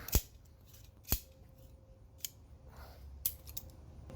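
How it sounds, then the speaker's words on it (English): Scissors snip through excess hose sleeving during hose replacement on a Kubota B7500 tractor. A few sharp, quiet cuts are spaced out over a faint background. "Then I usually cut it off to about, I don't know, maybe 3/4 inch sticking out"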